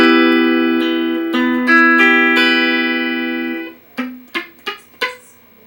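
An electric guitar plays a chord shape from a song, with several ringing strums followed by four short, choppy muted hits, close and clear.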